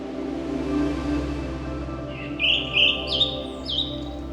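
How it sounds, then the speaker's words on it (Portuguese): Small birds chirp in short bright bursts in the ancient town of Lijiang, a few calls clustered in the second half over a steady low hum of background ambience. "o som dos pássaros e o reflexo das luzes nos canais permanecem na memória"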